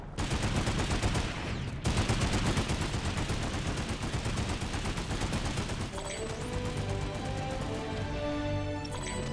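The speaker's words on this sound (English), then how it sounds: "I'm gonna sneak in here and shoot somebody in the head." Rapid automatic gunfire from the online shooter Planetside 2 rattles loud and continuous through a large battle, with a brief break near two seconds and a steadier, tonal stretch of weapon fire toward the end.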